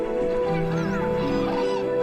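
A flock of aggressive domestic geese on a Chinese wetland honk loudly and close by, their overlapping harsh calls layered over a steady outdoor background.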